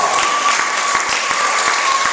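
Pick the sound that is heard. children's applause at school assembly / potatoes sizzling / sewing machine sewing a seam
children's applause at school assembly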